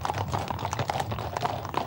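Friesian horses walking in a Prinsjesdag procession, hooves clip-clopping in a steady, close, moderately loud rhythm over a busy outdoor background.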